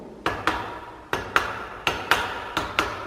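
A rubber mallet strikes a workpiece clamped in a general-purpose milling machine vise: seven sharp, close blows in an uneven rhythm, each a crisp knock with a short decay.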